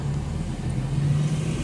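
A motorcycle engine hums steadily at a middling distance, a continuous low drone with slight swells as it revs on a rural road in Susuz, Kars, with no voices over it.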